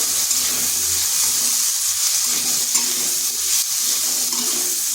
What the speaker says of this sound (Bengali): আলুটা একটু ভেজে নিচ্ছি যাতে সেদ্ধ হয়ে যায়